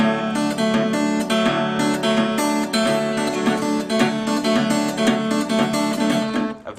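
Acoustic guitar plays a fingerpicked country-blues pattern at a faster tempo, a steady rolling stream of plucked notes with an alternating bass, close and continuous.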